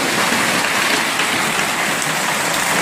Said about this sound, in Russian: Залетает град.